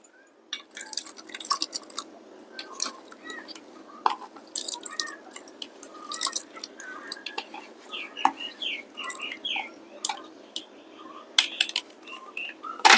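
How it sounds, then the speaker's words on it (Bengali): Cubes of cut watermelon dropped into a sweet drink, giving a run of small close drips, clicks and soft splashes, with faint whispery handling noise between them. "এবার আমি কেটে রাখা তরমুজের কিউবগুলো দিয়ে দিচ্ছি।"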